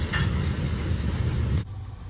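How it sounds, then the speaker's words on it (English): A Norfolk Southern eastbound ethanol train rolls past at a depot in Berea, Ohio, a loud, close rumble of rail cars that cuts off suddenly near the end, leaving quieter background noise. "we got another Norfolk Southern and Eastbound train coming down the line."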